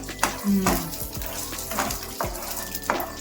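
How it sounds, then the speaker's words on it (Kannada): Three to four tablespoons of peanuts fry in hot oil for a spice paste for avarekalu sambar, giving a close sizzle with scattered pops and stirring clatter under a nearby speaking voice. "ನೋಡಿ ಇವಾಗ ಎಣ್ಣೆ ಕಾಯ್ದಿದೆ, ಇದಕ್ಕೆ ಒಂದು 3 ಇಂದ 4 ಟೇಬಲ್ ಸ್ಪೂನು ಕಡಲೆಕಾಯಿ ಹಾಕ್ತಾ ಇದ್ದೀನಿ"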